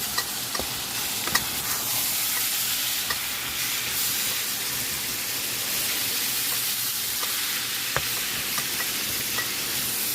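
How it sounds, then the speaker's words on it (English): Ground beef for chili sizzles in a hot pan while being chopped up, a continuous bright hiss broken by occasional sharp clicks and scrapes of the utensil against the pan. "Okay, now I've got my ground beef here in the pan. I'll chop it all up."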